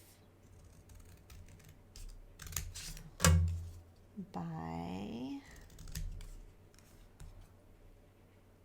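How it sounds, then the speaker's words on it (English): Scissors cutting out paper pieces during fussy cutting for crafts: a few crisp snips and clicks at close range, sounding quietly beneath a calm voice that talks throughout. "using your scissors."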